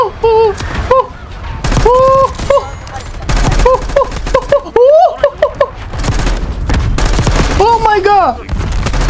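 Grenade blasts and rapid gunfire in the shooter Call of Duty: Black Ops 6, with repeated loud bursts of shots and booms mixed with game music tones and effects throughout.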